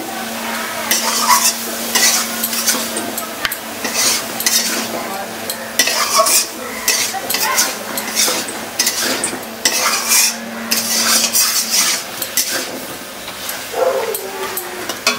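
Carrots, eggplant and onion sautéed with turmeric, salt and spices for an egg curry, a loud, busy run of spatula scrapes and knocks against the pan over a constant frying sizzle.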